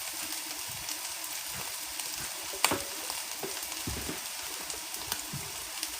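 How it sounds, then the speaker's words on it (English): Cabbage browning and caramelizing in a hot pan for corned beef and cabbage, a steady soft sizzle and crackle with a sharper pop midway, no talking. "And you gotta brown it just a little bit. You gotta caramelize the cabbage."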